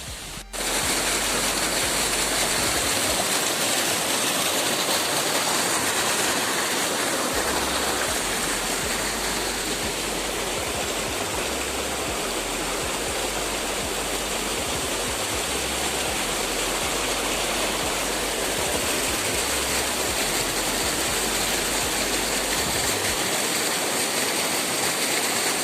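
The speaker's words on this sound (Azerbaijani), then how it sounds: "Hal-hazırda şəlalənin səsini eşidirəm artıq." The Dilman waterfall in dense forest in Azerbaijan's Agsu district roars loudly and without a break, a continuous rushing wash of falling water that fills the whole stretch with no voices.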